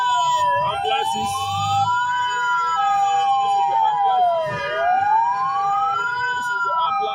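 Ambulance sirens wail steadily and loudly at a burial for a family killed by gunmen, the tone sweeping slowly up and down in long repeating cycles over a low murmur of crowd and traffic.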